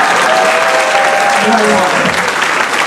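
Audience applause at an awards ceremony fills the clip with steady, loud clapping from start to end while someone speaks briefly over it.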